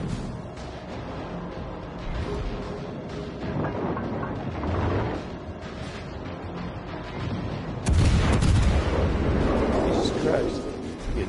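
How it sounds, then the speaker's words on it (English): A submarine fires torpedoes in a video game, heard as boomy rumbling bursts with a sudden louder surge near the end, while a player talks over the noise. "Launch torpedoes"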